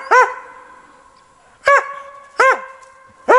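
A dog gives four loud, close, harmonic barks, the first followed by a long pause and the other three coming more quickly, with a faint whine lingering between them.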